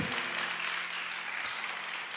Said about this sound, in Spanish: Yo quiero que le des un aplauso a los que sirven